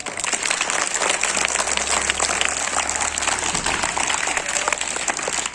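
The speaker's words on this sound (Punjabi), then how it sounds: "ਤਾੜੀਆਂ ਇੱਕ ਵਾਰੀ ਖੁੱਲ ਕੇ ਨਾਲ" Schoolchildren applaud at an entertainment event in a village government school: dense, continuous clapping, fairly loud and steady for the whole stretch without a break.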